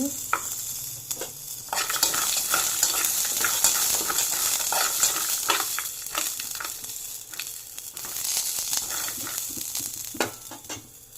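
Green chillies frying with chana dal in a pan, a quiet, steady sizzle broken by scraping stirs and irregular little clicks and taps throughout.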